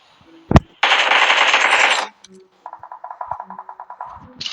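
Automatic gunfire in a multiplayer shooter video game, first a single sharp shot, then a sustained burst, and after a pause a rapid rhythmic string of rounds, loud and close.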